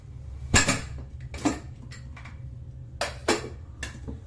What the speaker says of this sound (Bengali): ঢাকনাটা খুলে দেখবো সেদ্ধ হয়েছে কিনা।